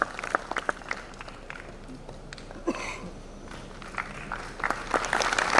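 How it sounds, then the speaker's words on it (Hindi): An Independence Day celebration audience claps to welcome a guest, with scattered, fairly close hand claps in an irregular rhythm that thicken toward the end. "जोरदार तालियां होना चाहिए।"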